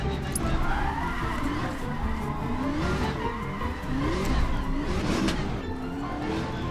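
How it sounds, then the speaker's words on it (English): A car in a handbrake drift, engine droning and revving as tyres skid and squeal in long wavering sweeps, loud and continuous throughout. "get your hand on the wrong side of the steering wheel, dip the clutch in, and pull the handbrake"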